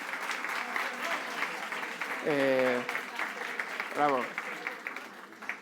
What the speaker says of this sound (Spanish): me gustaría que el primer aplauso de la noche sea para vosotros por estar hoy aquí